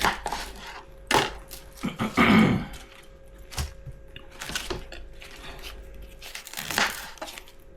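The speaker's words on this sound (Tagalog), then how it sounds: "Tapos yung mga sobra-sobrang tali, puputulin mo na." Scissors snipping off the excess twine tied around a pork belly being prepared as lechon belly: several separate sharp cuts and clicks spaced irregularly, plus light rustling of string and handling in between.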